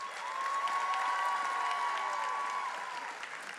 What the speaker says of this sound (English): Please give a round of applause for Congresswoman Lisa Blunt Rochester.